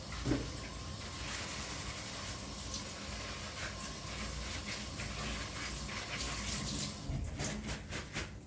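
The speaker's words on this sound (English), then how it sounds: "I'm going to go rinse my fingers." A kitchen or bathroom tap runs in a steady, even hiss of flowing water as dye-stained fingers are rinsed beneath it, continuing without pause for several seconds.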